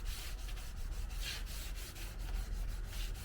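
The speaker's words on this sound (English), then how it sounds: "Using a light grit sandpaper, not trying to do anything but get the imperfections out." Light-grit sandpaper rubs by hand over a car body, a continuous close scratchy swishing with a brisk back-and-forth rhythm.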